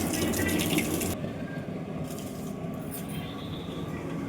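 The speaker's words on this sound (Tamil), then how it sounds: "தண்ணி கொதி வந்துடுச்சு" Water boiling in a cooking pot in a home kitchen, a bubbling hiss that drops back as the lid is lifted, then a softer steady burble, close by.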